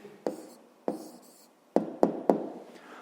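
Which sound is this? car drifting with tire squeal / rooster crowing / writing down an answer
writing down an answer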